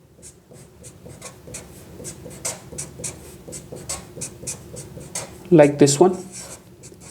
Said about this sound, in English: So I can write this ArN3